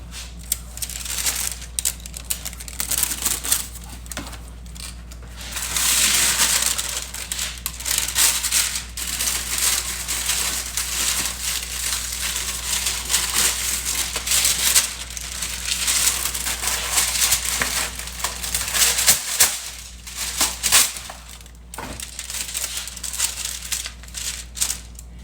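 Parchment paper is crumpled and handled in a kitchen during keto pizza crust baking, with crisp, close crinkling and rustling in irregular bursts that run continuously, with no voices.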